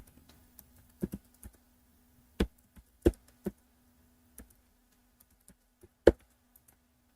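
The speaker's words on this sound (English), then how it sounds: "I didn't type in the reply properly." Computer keyboard typing at close range: scattered, uneven key clicks and taps with short gaps between bursts, in an otherwise quiet room with no talking.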